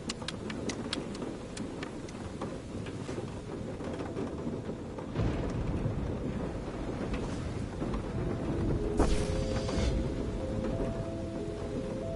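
Thunderstorm in the VR video game A Fisherman's Tale: steady heavy rain drumming on surfaces, with a deep rumble of thunder rolling in partway through, loud and continuous with no voices.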